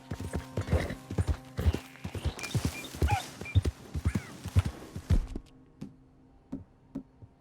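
Horse hooves clip-clop in Red Dead Redemption II, a steady rhythmic run of close, distinct strikes that slows and thins toward the end, leaving a few isolated taps.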